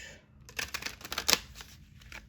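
A deck of cards being shuffled quickly at a desk, giving a short run of crisp riffling flutters and soft slaps that rise to a sharper burst midway, close up and alone.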